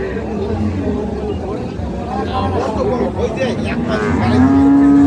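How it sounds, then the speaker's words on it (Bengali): Dairy cows at the Ambari cattle market low over a busy hubbub of people talking, ending in a loud, drawn-out moo close by. "দেখছিলাম আমবাড়িহাটের দুধের গাভী গরুগুলোকে"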